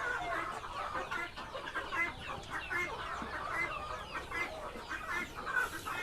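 Many KUB chickens cluck and chatter continuously, a busy flock close by on a poultry farm with overlapping calls throughout.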